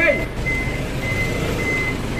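A tow truck sounds its reversing alarm, a steady series of high-pitched beeps repeating at an even pace over background street noise and voices.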